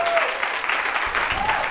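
An audience applauds steadily, many hands clapping in a dense, continuous patter that holds at even loudness, with voices briefly audible underneath.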